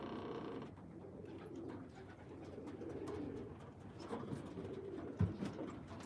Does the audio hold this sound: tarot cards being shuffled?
no